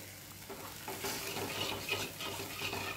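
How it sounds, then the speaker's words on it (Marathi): Thin chutney bubbles to a boil in a pan on a gas stove, giving a soft continuous sizzle and burble with light stirring clinks, quiet and close. "छान अशी उकळी आलेली आहे, इथे गॅस बंद करायचा आहे"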